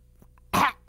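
Single sharp, wet phlegmy cough close to the mic, a brief burst in otherwise quiet surroundings with a softer follow-up breath at the end.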